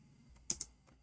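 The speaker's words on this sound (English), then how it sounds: "I'm typing in English again." Two quick, quiet keystrokes on a computer keyboard, closely spaced clicks against a near-silent room, with no voice.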